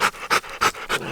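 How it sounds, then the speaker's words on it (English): A black-coated dog pants hard after overheating on a warm south-facing slope during a shed hunt, with four loud, close, rhythmic breaths and no talking. "She's just been panting."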